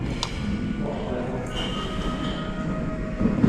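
A train pulls into a historic harbour terminus station, a steady rumbling roll with faint thumps and a brief high metallic squeal, heard at moderate distance against background noise.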